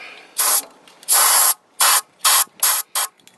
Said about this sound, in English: So I'm going to spray this carburetor cleaner down that throat and soak it down pretty good.